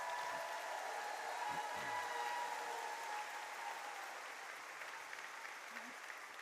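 A gala audience applauds in a steady, even wash of clapping from a large room, fading slightly toward the end, with a few faint voices underneath.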